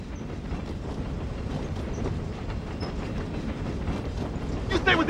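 A moving train in a 1998 thriller film rattles along the rails in a steady clickety-clack, with a brief bright metallic squeal near the end.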